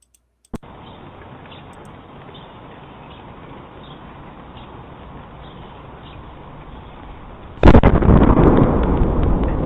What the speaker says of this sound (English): It sounds like somebody blew the sonic boom.